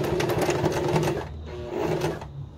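A sewing machine runs briefly in reverse and forward to backstitch the end of a seam on a fabric placemat, giving a close, rapid mechanical whir with a short dip midway.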